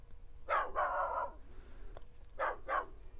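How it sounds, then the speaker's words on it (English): A barking dog in an audio sample, four clear barks in two pairs, close and loud, with a quiet gap between the pairs. "So from this barking dog, I just need a couple of barks"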